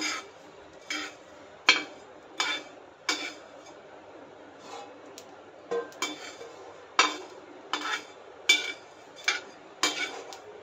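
Coriander seeds and whole spices being lightly dry-roasted in a pan for raw mango pickle, a spoon scraping and stirring in a dozen or so short, close, clattering bursts with faint gaps between, no voices.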